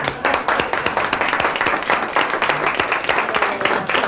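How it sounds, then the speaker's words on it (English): A large audience breaks into a strong, sustained round of applause at a 1987 lecture hall talk, dense clapping filling the room steadily from start to finish with no speech over it. "stand up and give yourselves a very strong round of applause."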